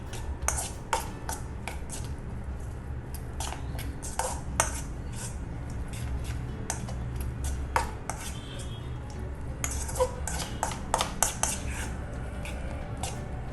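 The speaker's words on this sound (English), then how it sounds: "We are gonna fold our keema into our egg mixture." Minced meat keema folded into a beaten egg mixture in a bowl: repeated clinks and taps of a spoon against the bowl, irregular and close, with soft wet stirring between strikes.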